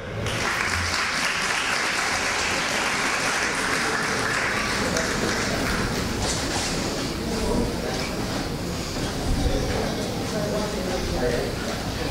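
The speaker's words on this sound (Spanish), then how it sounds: "El aplauso para él." Audience applause at the Vecino Puntual Miraflorino 2015 prize ceremony, a steady, dense wash of many hands clapping that fills the whole stretch at an even level.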